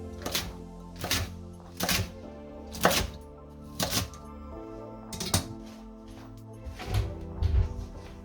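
A knife cuts stacked cabbage slices into cubes, with evenly spaced, close chopping thuds repeating roughly once a second against a hard surface.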